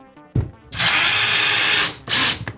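Power drill driving screws into plasterboard walls in a DIY cabin music studio build, two loud bursts of whirring after a brief knock, alone without talk.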